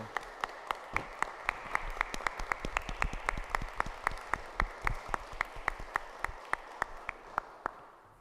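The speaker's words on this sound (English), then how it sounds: "I just want to join my colleagues in a wonderful round of applause to our clerks for all that they do" Slow, evenly spaced claps at a city council meeting in Providence, a steady rhythmic pattern of distinct individual hand claps over soft room noise, fairly faint overall.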